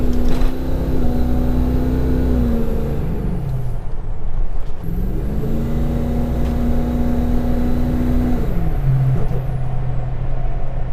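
A 6.0 Powerstroke diesel truck driving after a hard pull, its engine droning loud and steady from inside the cab with rising and falling pitch as it shifts through gears.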